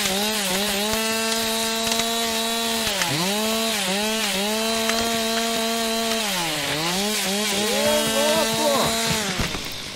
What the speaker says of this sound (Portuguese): é uma das melhores motosserras de jogos que eu já vi